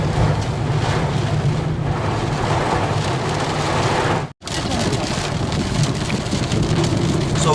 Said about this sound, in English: So this rain is still going on